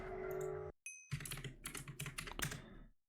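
Typing on a computer keyboard during a Bed Wars game, a quick close run of light, irregular clicking keystrokes after a brief tone, with no talk.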